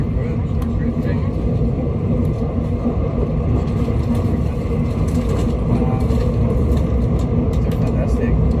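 Steady low rumble of a train interior riding through rice fields in Taiwan, a continuous rolling drone with faint rattles, with people chatting over it.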